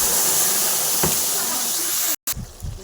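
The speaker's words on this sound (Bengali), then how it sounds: "এখন আমি ওই তেলে জিরা তেজপাতা ফোড়ন দিয়ে, তো এবার মশলাটা দিয়ে দিলাম।" Cumin seeds, bay leaf and spice paste hitting hot oil in a pan, a loud, close, continuous sizzling hiss that briefly cuts out near the end, then returns with some bumps and stirring sounds.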